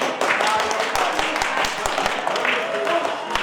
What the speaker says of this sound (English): That was the fastest clap of my life.